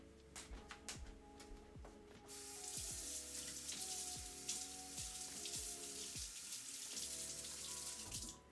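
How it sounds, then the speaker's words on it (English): Running kitchen tap water rinses something in a sink, a steady splashing stream that swells after a couple of seconds and continues alone, close and fairly quiet, with a few light clinks underneath. "Let me rinse this."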